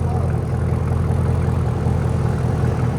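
A straight-piped Cadillac CT5-V Blackwing V8 idles loudly and close, a deep, steady rumbling burble with no pauses or revving.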